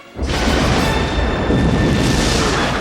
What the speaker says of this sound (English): And the explosion from the body makes the saucer go into the atmosphere of the planet.